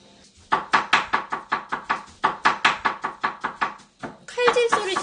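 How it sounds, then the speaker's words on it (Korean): A knife chops quickly and evenly on a cutting board in two rapid bursts of strokes, close by, with a brief voice at the end, in a home kitchen. "칼질 소리 들리죠? 저 지금 요리 중입니다."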